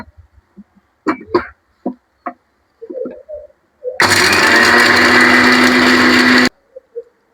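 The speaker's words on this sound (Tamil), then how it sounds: "இப்போ இதை நைஸாக அரைச்சி எடுத்துக்கலாம்." Mixer grinder blending tomato, tamarind and other ingredients for Coimbatore-style rasam, a loud steady whir for a few seconds after some light kitchen clatter, ending abruptly.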